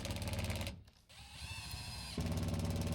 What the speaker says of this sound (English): I forgot to charge the drill, so it's going a little slower than usual.